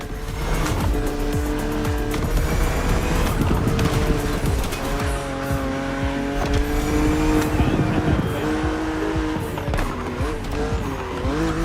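A BMW Z two-seat roadster driving in The Crew Motorfest racing game, its engine droning loudly and steadily with shifting revs and tire squeals, and a voice talking over it.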